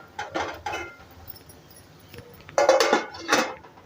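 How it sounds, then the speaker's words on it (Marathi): A lid is set onto a cooking pan of sweet potato mixture on a gas stove, giving a few sharp metallic clinks and clatters, loudest in a short burst near the end, with no talking. "आपल्याला परत हे झाकून ठेवायचं आहे"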